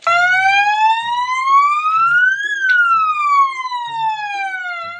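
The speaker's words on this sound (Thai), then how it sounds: "อันนี้เนี่ยน่าจะเป็นแบบเสียงแบบเตือนอะไรเงี้ยเสียงเตือนแบบแผ่นดินไหวอะไรประมาณนี้" An electronic warning siren from a car, like an earthquake alert, rises in pitch, then falls again in one long loud sweep, with faint background sounds underneath.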